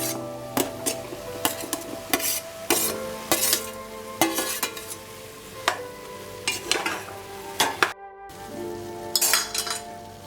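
A spatula stirring vegetables in a pressure cooker on the stove, giving repeated sharp metallic scrapes and clinks in an irregular rhythm over a light sizzle, close and fairly loud, with no talk.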